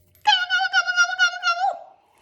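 A voice imitates a turkey gobbling in one sustained, wavering sung call of a few pulses, close and clear.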